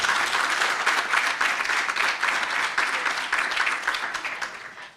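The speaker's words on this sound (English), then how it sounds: "Let's give Dr. Makuku another big round of applause" A forum audience gives a sustained round of applause, dense steady clapping from many hands that holds evenly and then tapers off toward the end.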